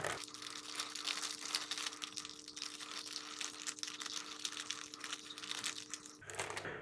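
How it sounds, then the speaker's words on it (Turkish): A plastic bag holding live shrimp for an aquarium is opened up close, with steady crinkling and rustling over a faint, constant hum. "Şimdi poşetimizin ağzını güzelce açtık."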